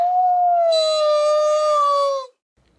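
A werewolf howl rings out as one long, loud, sustained wolf-like wail that holds steady, slowly sinks in pitch, and then cuts off into silence.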